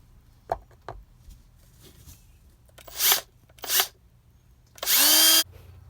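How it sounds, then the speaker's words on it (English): A power drill bites into a plastic portable toilet tank with two short bursts, then runs in a longer, rising whir as it bores through; quiet gaps and small clicks in between. "I'll go ahead and drill a hole in the potty tank"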